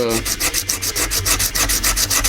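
A scrimshaw surface sanded by hand with rough sandpaper, a loud close scratchy rasp in quick regular back-and-forth strokes, each stroke a short gritty burst, with no voices.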